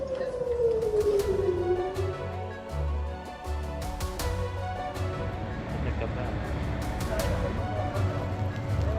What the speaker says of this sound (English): I'm afraid we're in the middle of a rocket siren now